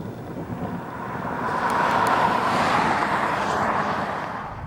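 Inside a 2015 Toyota Camry XSE on the move, a steady rumble of engine and road noise swells, holds and eases slightly, with no voices.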